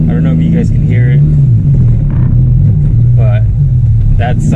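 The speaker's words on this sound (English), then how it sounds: "that side of the car freaking vibrates like crazy" A Honda S2000 with a worn motor mount idles close by, giving off a steady, deep droning rumble with a slight wavering pitch that carries through the whole stretch.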